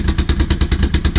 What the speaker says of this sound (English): You can hear like every individual cylinder firing. This is like the really low idle.